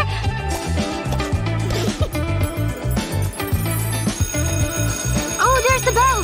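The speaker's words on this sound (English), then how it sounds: "Oh, there's the bell! Gym is over!" A school bell rings at the end of gym class, a loud sustained ringing tone layered over background music and chatter.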